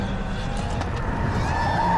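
A 700 hp Volvo V60 Polestar on a race track, its engine making a loud, steady, deep roar heard from inside the car.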